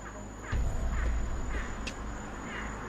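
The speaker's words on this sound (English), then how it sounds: "Well, that's a bird now" A crow caws a few times, far off and faint, near an abandoned building, over a steady low rumble of background noise with no speech.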